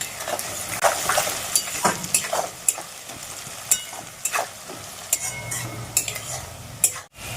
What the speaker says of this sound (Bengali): পেঁয়াজটা একটু লাল লাল করে ভেজে নেব পেঁয়াজটার মধ্যে একটু নুন দিয়ে দিলে আমার তাড়াতাড়ি করে পেঁয়াজটা ভাজা হবে